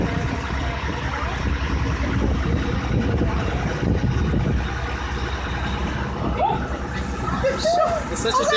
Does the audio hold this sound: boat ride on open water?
yes